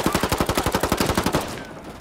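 Automatic gunfire during a Ghost War PvP match in Ghost Recon Wildlands on Xbox One: a loud, rapid, evenly spaced burst of shots lasting about a second and a half, then cutting off into quiet.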